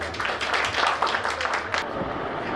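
A seated audience at a property developer's lucky draw meeting gives a brief burst of scattered applause that fades after a couple of seconds.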